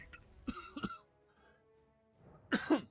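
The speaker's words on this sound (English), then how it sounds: "It's the spice that's coughing me." Coughing during a spicy-food moment: a pair of throat-clearing coughs near the start, a quiet pause, then a louder, harsher burst of two coughs close to the microphone.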